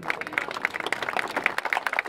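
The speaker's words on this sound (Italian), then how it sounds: "Un applauso per Giovanni Magrini" Crowd applause for traditional Sardinian guitar singer Giovanni Magrini at an outdoor folk event in Capo Comino, a dense, moderately distant patter of many hands clapping steadily throughout.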